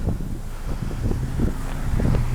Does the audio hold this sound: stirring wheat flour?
no